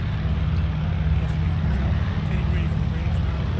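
A vintage Avro Anson flies past at an air show at Omaka, its engines giving a steady, loud, continuous drone throughout, with no break in the sound.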